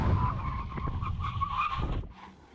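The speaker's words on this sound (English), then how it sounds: "full emergency stop. Which car will stop in the shortest distance?" A BMW 760Li V12 luxury saloon makes a full emergency stop, its tyres skidding in a loud, close squeal for about two seconds before cutting off into near quiet.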